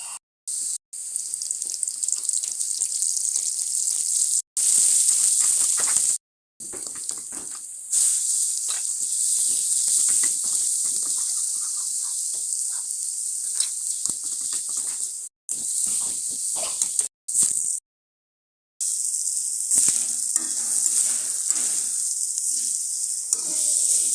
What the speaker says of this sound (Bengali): আমি আগে থেকে শুকনো মরিচ ভাজে নিচ্ছি